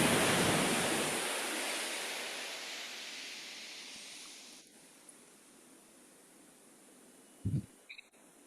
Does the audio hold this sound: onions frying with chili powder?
no